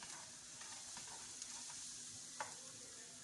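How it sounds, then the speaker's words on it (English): Garlic and onion sauté in hot avocado oil in a frying pan, a steady soft sizzle with a few light clicks of stirring, close and continuous with no talking. "Then saute it briefly."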